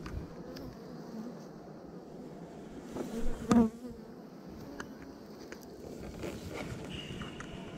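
Honeybees buzz around an open hive while the honey supers are inspected. The drone is soft and constant, broken by a brief louder knock of handling midway.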